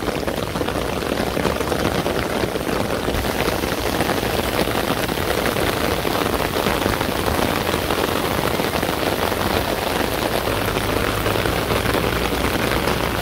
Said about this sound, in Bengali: বৃষ্টি পড়তেছে, বৃষ্টির শব্দ।